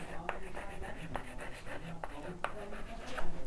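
Chalk or marker writing on a board in a Class 10 maths lesson produces quick, close taps and scratchy strokes in an irregular rhythm, heard under soft speech.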